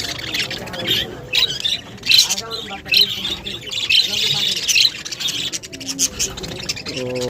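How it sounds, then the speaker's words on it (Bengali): Lovebirds chirp and squawk busily, with shrill calls overlapping while a person talks over them. "পাখিগুলো খুব কিচির মিচির করতেছে"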